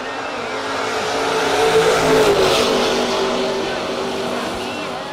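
A drag racing car accelerates hard down the strip at a no-box event, the engine roar swelling to a peak midway and then fading as it pulls away into the distance.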